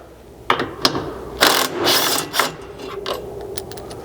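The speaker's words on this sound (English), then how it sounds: "you just have 1 bolt that you can remove with your 13" A ratchet with a 13 socket turns a bolt out of a Chevy Colorado frame in bursts of close, rapid clicking, with short pauses and a few scrapes between strokes.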